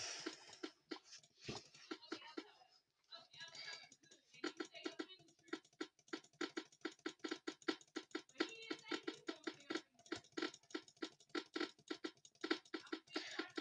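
Rapid, steady clicking from playing the game Cat Clicker patters on continuously in quick bursts, close and fairly quiet, with a short pause near the start.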